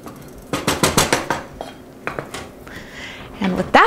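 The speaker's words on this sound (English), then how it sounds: "I'm gonna have a nice stir, make sure I hit the sides of the pan and the bottom of the pan" A spoon clatters rhythmically against a pan while food is stirred around its sides and bottom, a quick run of loud metallic scrapes and knocks, then a few scattered strokes and a final louder burst.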